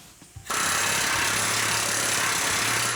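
A power hammer pounding car body sheet metal on a 1970 Chevelle build starts abruptly after a brief pause, then runs as a loud, steady, rapid mechanical hammering close by with a constant buzzing rattle.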